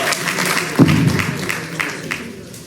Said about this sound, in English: So Let's give him one more hand clap.